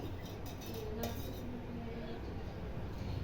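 A metal kadai pan is set onto a kitchen stove, with a few faint clinks and scrapes of metal over a steady background hiss and muffled household noise.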